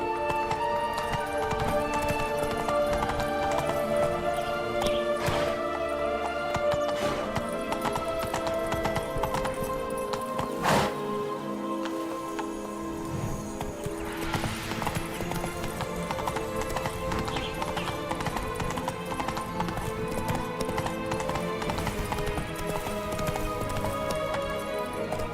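Roach, a horse in The Witcher 3 video game, gallops with steady rapid clip-clop hoofbeats and an occasional whinny, set against continuous background game music.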